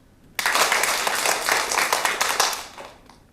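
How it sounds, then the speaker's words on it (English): Round of applause from an audience at a youth startup pitch competition grand final, clapping that starts abruptly, holds steady and fairly close for about two and a half seconds, then tapers off into quiet. "Let us give them a round of applause."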